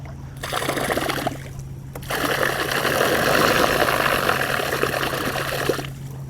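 Small boat trolling motor starting up on an island lake and running with a steady whirring hum, cutting in and out a couple of times, close by and without voices.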